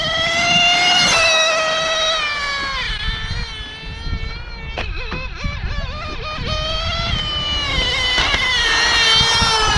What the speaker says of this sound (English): Doing a speed pass with the SERPENT